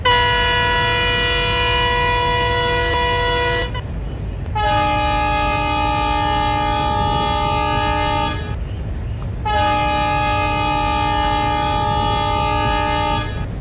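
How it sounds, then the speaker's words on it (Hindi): A WDM3 diesel locomotive horn in Trainz Simulator sounds three long, loud, multi-tone blasts in a row, each lasting several seconds and separated by short gaps, over a low rumbling engine. "जैसे ही मैंने बोला यार हॉर्न बजाने के लिए उसने तुरंत बजा दिया यार"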